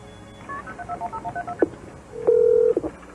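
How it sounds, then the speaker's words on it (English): A telephone keypad dials 911, with a quick run of short, clear beeping tones followed by one longer, louder tone and a final brief beep, close and alone. "I picked up the phone and I dialed 911."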